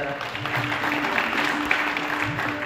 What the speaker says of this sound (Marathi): जरा सगळ्यांच्या जोरदार टाळ्या झाल्या पाहिजे।